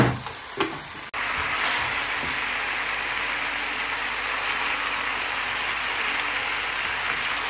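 Meat sizzles steadily in a hot pan after turmeric and soy sauce go in, a dense continuous frying hiss with a brief stir or clatter near the start, close and fairly loud with no talking.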